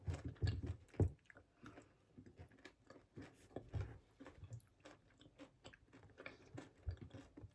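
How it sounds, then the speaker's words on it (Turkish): Close, crisp crunching of Dubai chocolate filled with crispy kadayif pastry being chewed, with irregular bites and quiet chewing noises repeating throughout. "Kıtır kıtır ses duydum bilmem ama kadayıfın kıtırlığı geliyor."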